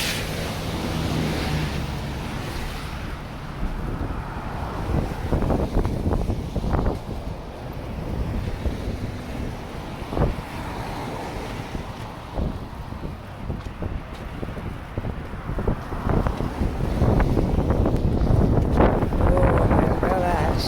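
Strong wind buffets the microphone on a bridge during a snowstorm, a steady loud roar with gusts and scattered knocks and handling sounds, a person occasionally speaking under it.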